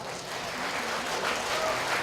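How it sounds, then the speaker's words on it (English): Wedding guests at a reception break into steady applause, a dense wash of clapping from a sizable crowd, moderately distant and continuous. "Give yourself a round of applause."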